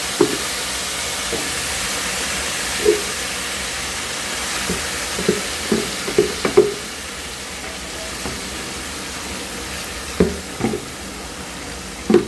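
Hot oil for citron pickle sizzles in a steady, dense hiss, broken by occasional soft clinks and stirring taps, close up and without any voices.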